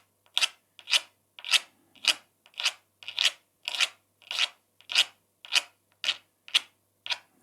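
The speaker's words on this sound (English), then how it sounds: "Put some scratches in." A blade scratches across the paint of a painting in a dozen or so evenly spaced, short rasping strokes, close and clear, with quiet between each stroke.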